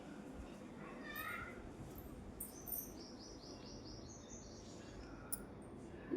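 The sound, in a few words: bird chirping near its nest with eggs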